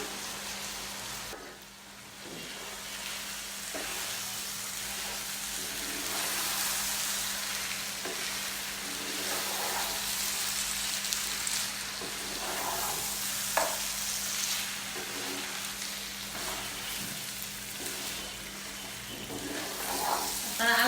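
Rice and lentils (golap rice and dal) frying and being stirred in a pot for beef bhuna khichuri, a steady close sizzle with scraping stir strokes throughout, no talking.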